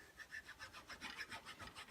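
A small square file rasps back and forth in a knife handle's tang hole, giving a quiet, even series of about a dozen rhythmic filing strokes with no speech.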